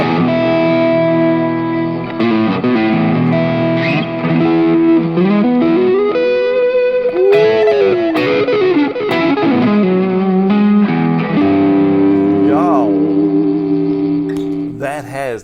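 A relic electric guitar rings out with sustained, bell-like tones through effects and distortion, playing a continuous loud melodic line with bends for the whole stretch.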